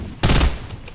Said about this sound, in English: I shotgunned him to death